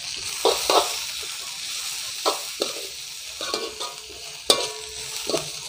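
Sri Lankan-style chicken kottu roti is stir-fried with green chillies, a loud continuous sizzle broken by repeated metal scrapes and clanks of the spatula against the pan, with no talking.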